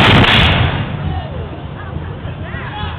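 Black-powder musket fired during a historical drill demonstration, a single loud blast at the very start that decays into a rumbling echo, followed by faint crowd noise and voices.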